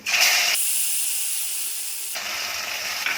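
Puree of two medium tomatoes hits a hot pan of fried ginger, bursting into a loud, steady, close sizzle that holds for a few seconds without any talk.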